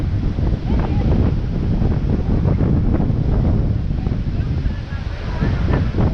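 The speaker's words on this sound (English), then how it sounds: "As you can see, the waves are too big." Heavy surf and strong wind roar continuously at Boracay White Beach, a dense loud wash of breaking waves with wind buffeting the microphone throughout.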